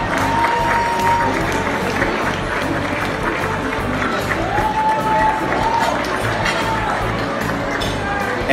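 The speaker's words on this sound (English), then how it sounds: "So please give a huge round of applause, an award recipient tonight" A crowd applauds and cheers an award recipient as he is called to the stage at an awards ceremony, dense sustained clapping filling the room with crowd noise and voices underneath.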